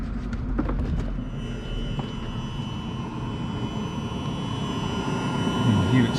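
A fuel-burning heater runs steadily under the open hood of a Range Rover L405, giving a constant low mechanical hum and whir with faint tonal whine, plus a few clicks near the start.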